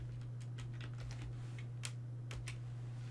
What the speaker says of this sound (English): I can type in the word Healy.